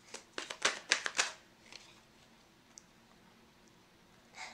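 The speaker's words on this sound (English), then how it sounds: "I know that I shuffled these cards" A quick riffle of tarot cards being shuffled, a rapid run of crisp flicks lasting about a second, then quiet with a faint tap or two.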